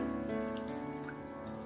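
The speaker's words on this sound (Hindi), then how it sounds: "पानी डाल देंगे" About three to four tablespoons of water poured onto 500 grams of jaggery for dry fruit laddoos, a steady close pouring and trickling sound with no talking.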